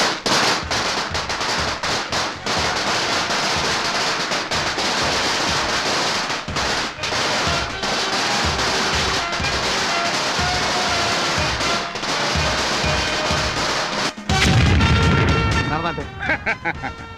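Blasting at a stone quarry sets off rapid bursts of sharp cracks and bangs like firecrackers, loud and dense, ending in a heavier deep boom, with voices speaking among the explosions.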